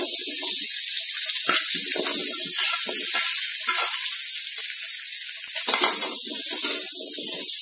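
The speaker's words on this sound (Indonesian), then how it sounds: "cabe bawang tomatnya saya goreng dulu dengan sedikit minyak ya goreng sebentar" Chilies, shallots and small tomatoes fry in a little oil, producing a loud, steady, close sizzle and hiss that continues throughout, with a voice faintly beneath it.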